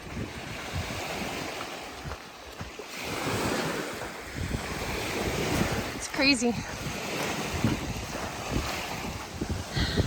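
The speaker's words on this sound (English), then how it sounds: "It is so windy. It sounds like I'm by the ocean." Strong wind roars and buffets the microphone continuously on a wilderness hiking trail beside choppy water, with a choppy, rushing texture; a voice speaks briefly partway through.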